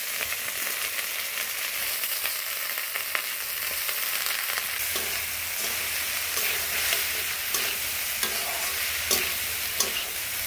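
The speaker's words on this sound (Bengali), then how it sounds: "ডিম কিন্তু ভাজা ভাজা হয়ে গেছে, একটু পরে আমি ভাতগুলো দিয়ে দেবো এর ভিতরে।" Egg and cold cooked rice stir-fried in a pan for homemade fried rice: constant close sizzling and frying with repeated scraping and clinking of a spatula against the pan, no talking.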